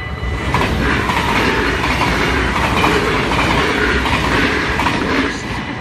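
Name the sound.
train passing on railway in Maasbracht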